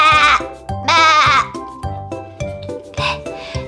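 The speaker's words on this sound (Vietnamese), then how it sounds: "Là con cừu. It's a sheep." A sheep in a farm-animal lesson for toddlers bleats loudly and close in two long wavering cries, followed by a run of shorter pulsing bleats, with a voice heard alongside.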